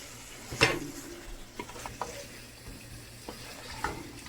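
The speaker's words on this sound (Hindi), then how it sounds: "अब हम इसको स्पिनिच के साथ अच्छी तरह से भूनते हैं" Spinach and meat being stir-fried in a pot for palak gosht, with a few scattered scraping stir strokes and soft sizzling close by, no talking.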